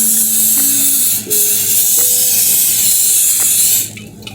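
Cooking spray hisses steadily onto a muffin tin for blueberry muffins, one loud continuous spray lasting close to four seconds with a faint rattle behind it.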